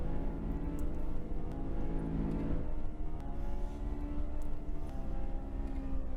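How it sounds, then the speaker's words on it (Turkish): Honda S2000 mod engine in Euro Truck Simulator 2, giving a steady, fairly quiet droning hum that holds level throughout with a slight shift midway. No one talks. "Aracın sesi dediğim gibi böyle e, kendinden ara gazlı gibi değişik bir sesi var bak."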